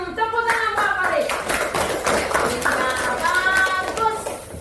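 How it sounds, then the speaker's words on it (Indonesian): Hands clap in a classroom during an Indonesian Quran recitation lesson, crisp repeated claps from a group of children, near and lively, with kids talking between and over them. "Tepuk tangan Pak Paris."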